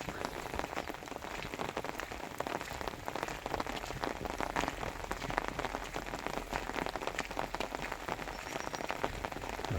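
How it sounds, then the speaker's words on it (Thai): Light rain falls steadily on a road surface, a dense, even patter of drops close by with no talk. "ฝนยังตกอยู่นะครับฝนตกลินเบาๆนะครับ"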